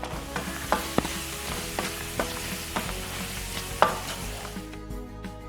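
Crab masala with small coconut pieces fries and sizzles in a pan as it is stirred, with a steady hiss and scattered scraping clacks from the spoon, close and fairly loud, with no talking.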